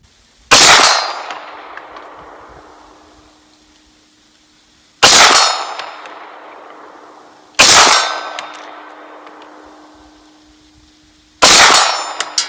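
Four loud, sharp shots from a Springfield XDM Elite OSP pistol aimed with iron sights ring out several seconds apart, each followed by a long metallic ringing decay and a faint steady tone in between.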